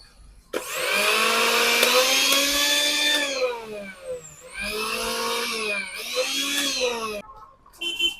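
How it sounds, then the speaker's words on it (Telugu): A Bajaj 500 W mixer grinder motor, just fitted with a new coupler, runs loud and close in three steady whining bursts, each winding up to speed and dropping off, with no talk. "ఒకసారి మీకు మిక్సీ కూడా రన్నింగ్ చేసి చూపెడతా"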